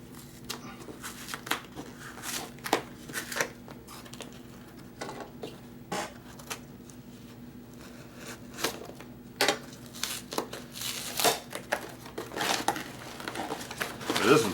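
Plastic packaging around a Spyderco Manix 2 XL knife crinkles and crackles at close range in irregular bursts, quiet at first and then busier and louder, with soft handling noises between them.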